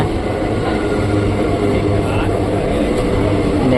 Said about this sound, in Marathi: तर मंडळी हे फायनली ट्रेन आपली आलेली आहे